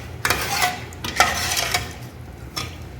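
Ghee rice being stirred in a metal pot, with a few sharp scraping clinks of a spoon against the pot in an irregular rhythm, close and moderately loud over a quiet background.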